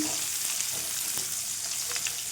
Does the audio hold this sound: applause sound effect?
no